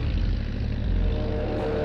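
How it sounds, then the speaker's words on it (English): A World War II RAF reconnaissance propeller plane flies above the Atlantic Wall coast, making a steady, low, droning engine hum that stays even throughout. "RAF reconnaissance planes have been busy above the Atlantic Wall."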